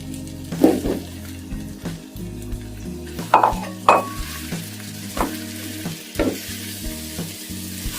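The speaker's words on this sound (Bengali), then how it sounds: "আমি আমগুলো দিয়ে দেব, দিয়ে আমি 2-3 মিনিট ভেজে নেব।" Raw green mango pieces fry in a pan for a sour, peppery, sweet pickle, a steady sizzle broken by repeated scraping stirs and a few sharp clinks of the spatula against the pan, close and clear with no voices.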